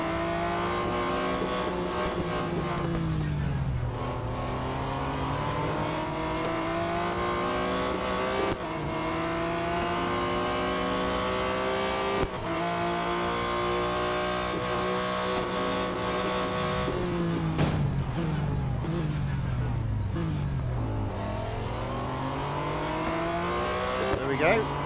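Race car engines in the video game Real Racing 3 drone loudly while drafting behind another car, with several rising and falling pitch sweeps as gears shift and cars pass.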